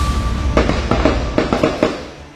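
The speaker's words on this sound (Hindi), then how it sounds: "रुक रुक के फायरिंग की आवाज़ फिर आ" Bursts of gunfire during an armed encounter with militants in Rajouri, Jammu and Kashmir, about seven sharp reports at irregular intervals over a loud, steady background rumble with no talk.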